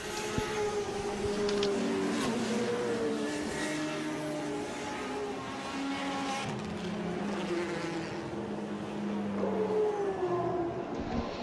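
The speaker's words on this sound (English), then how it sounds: "The sights and sounds of the World Touring Car Championship field warming their tyres" Several World Touring Car Championship race car engines drone and rev together at a steady level while warming their tyres in Macau, a layered mechanical buzz with rising and falling pitches, no talking.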